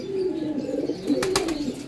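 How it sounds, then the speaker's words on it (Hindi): Pigeons coo in a steady, close run of low throaty calls, with a few brief higher chirps near the end and no talking. "ये देखें ये भी कबूतर है"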